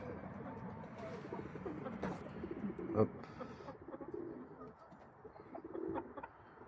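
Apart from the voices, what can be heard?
pigeons cooing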